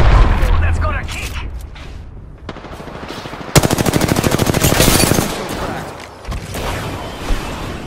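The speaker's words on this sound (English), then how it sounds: "Grenade out! Grenade out!" Grenade blast and automatic gunfire in Apex Legends: a dense burst of rapid shots, a sharp explosion-like hit midway followed by fast rattling fire, then scattered shots, loud and close with game chatter underneath.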